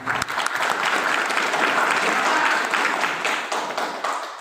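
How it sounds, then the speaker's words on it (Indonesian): At a Maulid Nabi religious gathering in Kutacane, the audience claps for a YouTuber, a dense burst of applause that swells and then tapers off over a few seconds. "Tepuk tangan untuk YouTuber Agara"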